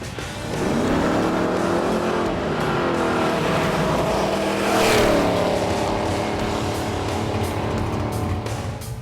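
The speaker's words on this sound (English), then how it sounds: "old-school power plant vibrating through the car is pegging my meter" A Hurst/Olds with a 455 V8 roars loudly as it accelerates, the engine note climbing and holding steady for several seconds, close and dominant with no talking.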